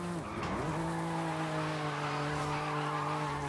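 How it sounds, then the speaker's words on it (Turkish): A BMW M3 drifts in the racing game Forza Horizon 5, its tires squealing in a steady, loud sustained screech over a droning engine note that dips briefly near the start and then holds. "Şimdi drift atıyorum ama hiç yoldan çıkmadan gelebiliyoruz bak şimdi"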